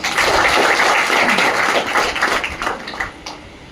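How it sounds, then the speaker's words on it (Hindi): Audience applause, a broad wash of clapping from many hands that swells loud at the start and slowly thins out toward the end, with no talking over it. "इसके लिए आप सभी अपने लिए एक बार जोरदार ताली हो जाए।"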